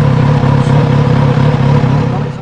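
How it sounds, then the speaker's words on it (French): A Kawasaki Z900RS motorcycle engine runs close and loud with a steady, throbbing mechanical drone that holds even throughout. "bonne idée de démarrer la moto"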